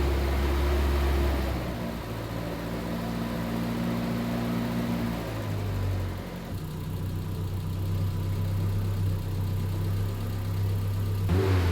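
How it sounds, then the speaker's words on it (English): A Triumph Spitfire's engine cranks and catches, then settles into a steady, close idle with a low, even drone that holds for several seconds, with a brief shift in pitch partway through and no talking. "Let's fire it up, get the water pumping around so we can check for leaks."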